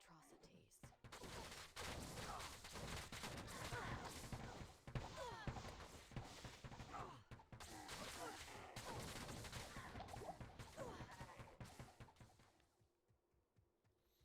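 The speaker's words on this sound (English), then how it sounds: "it seems like the barrage goes off, like, where you were standing, not around you" Barrage attack skill from a Bowazon build in Median XL Sigma for Diablo II, a dense, continuous volley of rapid gunfire-like impacts and thuds lasting over ten seconds before fading, with someone talking over the game sounds.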